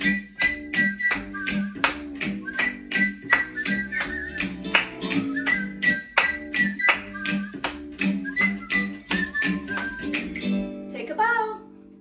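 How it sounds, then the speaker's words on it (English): Children at a library story hour clap along to a tooth-brushing song, the crisp, regular hand claps tapping in time over the sung melody and accompaniment for about twelve seconds. "Clap along."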